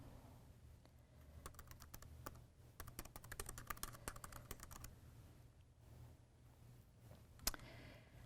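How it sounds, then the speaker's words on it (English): Quiet, rapid clicking of keys on a computer keyboard as an email address is typed, bursts of close, light taps with short pauses between them. "So we're going to click and type in the email."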